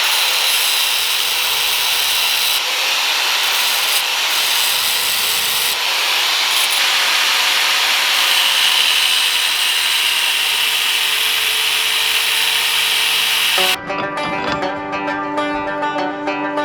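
Power tool grinding off the tips of wheel studs on a Toyota Tacoma strut during a leveling kit install, a loud continuous harsh whine lasting most of the clip before cutting off abruptly.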